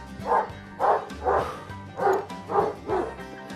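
A dog barks repeatedly, six loud, evenly spaced barks close by, with no talking.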